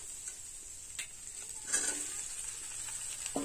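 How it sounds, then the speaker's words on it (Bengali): Snakehead fish pieces fry in hot oil with a steady bright sizzle, interrupted by a few soft clicks and stirring scrapes, no talk. "শোল মাছ লাল করে ভেজে নিয়েছি, তুলে নেব"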